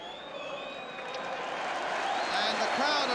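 A football crowd at Chelsea v Liverpool in 1979 roars and cheers in a broad, rising swell from the far side of the stadium, loud and continuous.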